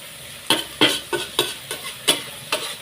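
Pork belly is stir-fried in a pan for a cabbage dish, sizzling under eight sharp, evenly spaced scraping strokes of a spatula, loud and close, with no voices.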